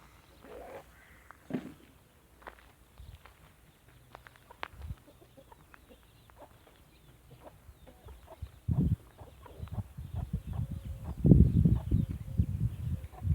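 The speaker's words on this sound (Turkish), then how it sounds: "benim civcivlerim de yavaş yavaş büyüyor arkadaşlar" Soft chirps and clucks from chicks on a farm scattered through a quiet background, growing into a busier, louder patch of pecking and cheeping near the end.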